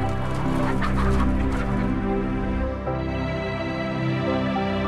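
Caged hens in a crowded battery-cage facility cluck continuously, a dense overlapping flock chorus that stays steady and close throughout, with no talk over it.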